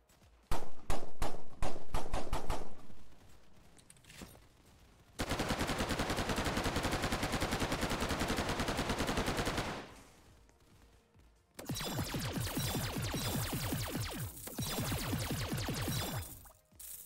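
Rapid automatic gunfire from a drum gun in a Roblox zombies shooter, with a few separate shots at first, then long sustained bursts that pause and resume, loud and close.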